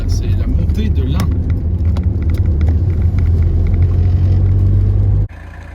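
A Peugeot 205 engine idles steadily and loudly for several seconds, a constant low rumble with a few faint clicks over it, then cuts off abruptly near the end.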